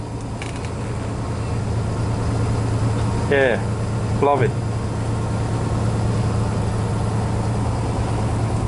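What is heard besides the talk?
restored 1964 VW split-window bus engine running quietly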